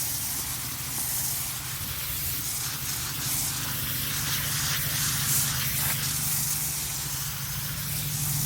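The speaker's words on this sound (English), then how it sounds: "you're going to spray out the filters as best you can before we soak them in the filter cleaner" Spray nozzle on a hose blasting water onto hot tub filters, a steady broad hiss of spray lasting throughout, close and fairly loud, with no one speaking.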